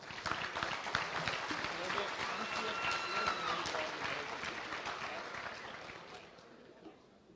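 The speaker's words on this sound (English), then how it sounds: "Let's give them a round of applause." Audience applause at a state FFA career development event results ceremony, sustained clapping from a crowd that holds steady before fading out at the end.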